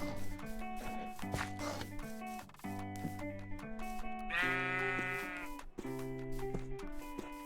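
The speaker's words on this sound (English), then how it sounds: "Let's go find some sheep." A single sheep bleats in Minecraft (Monifactory modpack), a short wavering cry rising over steady, tuneful background game music.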